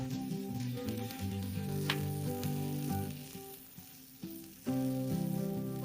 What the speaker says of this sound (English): We won't be frying our cutlets for long.